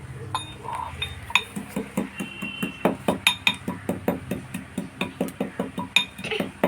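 Roasted cumin seeds being ground by hand: a steady run of sharp knocking strokes, about three per second, close by and fairly loud, with a faint voice early on.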